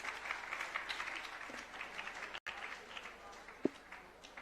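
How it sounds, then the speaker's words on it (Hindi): Applause from a gathering honouring Malaiya ji at a Jain religious event, fairly faint and scattered clapping spread through the moment, with one sharper knock near the end. "मलैया जी का सम्मान तालियों से एक बार सभी लोग करेंगे"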